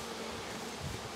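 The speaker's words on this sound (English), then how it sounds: "But there you go, some bees." Bees buzz in a hive of a nucleus colony during an inspection, a brief, dense, continuous hum heard up close with no voices.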